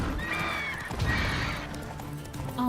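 A horse gallops in The Witcher 3, steady hoofbeats mixed with a whinny over continuous game ambience, close and fairly loud.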